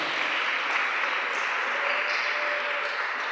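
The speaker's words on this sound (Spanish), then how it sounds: "Dale fuerte ese aplauso al Señor" A congregation at a Spanish-language church service applauds, producing a steady, moderately faint wash of clapping that holds evenly throughout without any voices on top.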